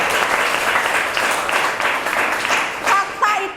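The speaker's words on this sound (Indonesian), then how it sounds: "Tepuk tangan sekali lagi untuk mereka berdua." Applause from an audience in a classroom, a dense steady patter of many hands clapping close by for the whole stretch, with a few brief voices cutting through near the end.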